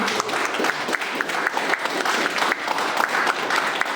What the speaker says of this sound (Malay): jemputan kita Wan Mohsin, berikan tepukan.